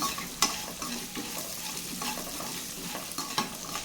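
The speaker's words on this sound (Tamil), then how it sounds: "இப்போது வெங்காயம் வதங்கிறதுக்காக கொஞ்சமாக உப்பு சேர்த்துக்கலாம்" Onions sautéing with a little salt in a pan for Tamil coriander rice, a steady close sizzle broken by scraping stirs of the spoon against the pan, with no talking.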